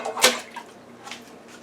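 Water poured into a pressure cooker over about a pound and a half of chicken gizzards, with a bright splash at the start and quieter trickling and dribbles trailing off.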